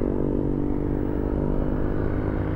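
A NIU NQi GT electric motorbike being ridden gives a steady whirring hum mixed with road and wind rumble, continuous and fairly quiet, with no speech.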